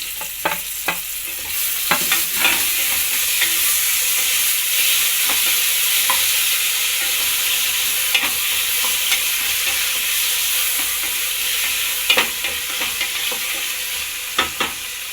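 Onions and tomatoes frying in a pan for sambar, giving a steady close sizzle broken by frequent sharp clicks and scrapes of stirring, with no one talking.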